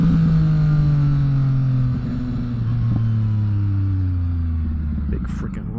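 A motorcycle rides over big rocks and gravel, its engine a loud, close, continuous drone that slowly drops in pitch.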